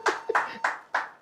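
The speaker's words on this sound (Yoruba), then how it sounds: "Ẹ bá ń pàtẹ́wọ́ fún wọn." Four sharp bursts of hand clapping from a studio audience on a Yoruba-language television quiz show, evenly spaced and close, with no talk over them.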